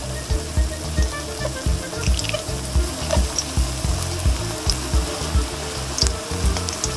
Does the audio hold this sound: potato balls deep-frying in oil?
yes